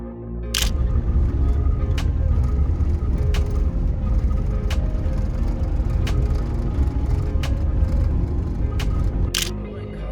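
A van leaves the Autobahn and rolls through a small village, its engine a steady low drone close by with regular sharp ticking clicks cutting through the road noise.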